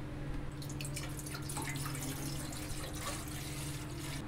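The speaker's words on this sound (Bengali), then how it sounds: "গামলাতে জল দিয়ে দেব" Water running into a basin for steaming idli, a continuous close splashing and trickling stream with scattered drip-like splashes, steady throughout with no talking.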